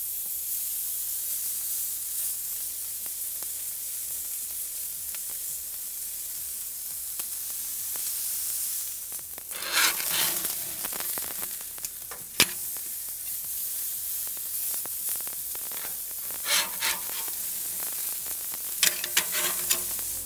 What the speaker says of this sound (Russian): На среднем огне на сковородку я добавляю 40 грамм сливочного масла.